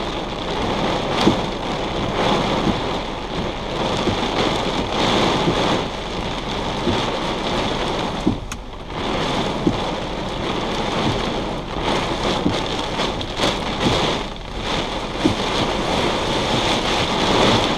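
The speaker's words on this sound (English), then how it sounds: "it's raining pretty hard" Heavy rain pours steadily and loudly during a damaging windstorm in Independence, Missouri, a dense continuous hiss with drops drumming on a surface, no voices.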